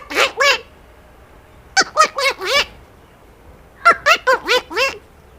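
A man imitates the small call of a forest bulbul, whistling short bursts of chirpy, warbling notes in three separate groups with quiet pauses between them, close and clear.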